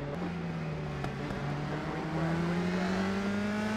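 USF2000 open-wheel race cars in iRacing droning off the start together, a steady layered engine whine rising in pitch as the pack accelerates, loud and close.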